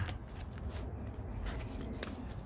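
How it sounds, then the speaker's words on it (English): A deck of playing cards is given an overhand shuffle close by, producing quiet rapid riffling and slapping flutters in a continuous dry patter with no speech. "Give them a little overhand shuffle."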